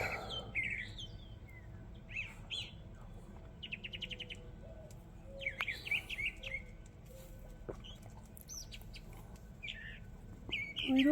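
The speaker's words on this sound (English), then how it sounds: "Birds are chipper, huh?" Birds chirping outdoors beside a backyard grill, several short tweets and quick trilled bursts scattered over a quiet low background hum, moderately distant and fairly faint.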